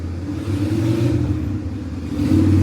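Harley-Davidson motorcycle engine on a Kyoto or Osaka street, a deep, steady idling rumble close by that swells louder near the end as the bike revs.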